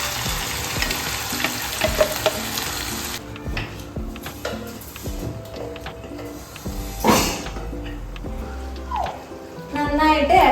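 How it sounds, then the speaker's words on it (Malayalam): Marinated chicken goes into hot oil in a pan and sizzles loudly and steadily up close, with occasional clinks of a utensil against the pan as the pieces are stirred. "മാരിനേറ്റ് ചെയ്ത് വെച്ച ചിക്കൻ നമുക്ക് ഇതിലേക്ക് ഇട്ട് കൊടുക്കാം."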